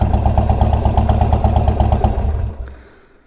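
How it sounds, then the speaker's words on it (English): A motorcycle fitted with a newly installed aftermarket exhaust idles close by, a loud, steady, throbbing burble for over two seconds before the engine cuts off and fades into a quiet tail. "here's the idle sound for you guys."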